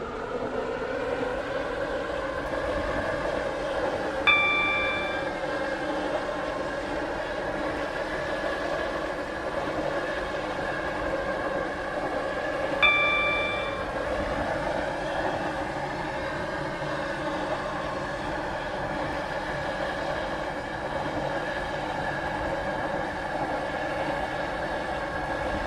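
A Class 720 train runs in the Stepford County Railway game, a steady electric motor hum and rolling drone continuing evenly, with two brief chime-like tones standing out partway through.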